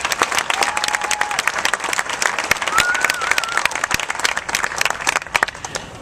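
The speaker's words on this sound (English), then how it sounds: "Please give another round of applause for George Fromm." Crowd at a supermarket grand opening in Riverside breaks into sustained applause for an honoree, dense clapping with sharp individual claps standing out, with a voice speaking briefly over it.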